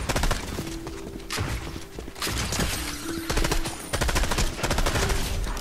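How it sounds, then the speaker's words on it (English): A Wood Stake Shotgun fires in the Fortnite video game amid rapid bursts of gunfire, with sharp repeated blasts in clusters and short gaps between them, loud and close with no talk. "Well, I am not so good with this new shotgun."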